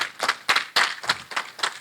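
A crowd applauding at an opening ceremony celebrating a centenary legacy in Uganda, a steady patter of many hands clapping with rhythmic swells, fairly close and lively.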